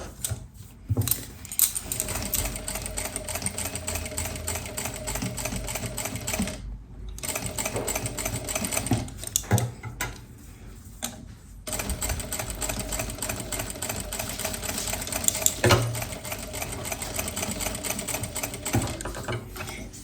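An electric sewing machine runs in long, steady bursts of rapid needle chatter while sewing a straight seam along a kurti armhole, broken by a few brief pauses and light clicks between runs.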